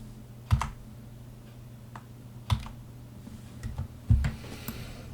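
Someone types on a computer keyboard while building a Scratch flower-growing animation, giving sparse, fairly close clicks and a few sharper key thumps over a low, steady room hum.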